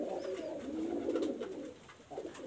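Healthy flying pigeons of the Teddy breed coo in soft, repeated low throaty phrases, close and steady, with no one talking.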